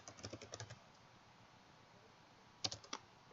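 Code is typed on a computer keyboard in quick, faint bursts of key clicks, a short flurry at the start, a quiet pause, then a few more keystrokes near the end.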